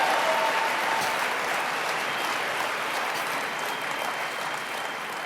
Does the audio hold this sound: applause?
yes